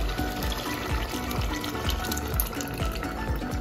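Lentils for Hyderabadi dal gosht pour into a pot of cooking mutton, a close, continuous watery rushing and splashing with low bumps repeating throughout and no voices.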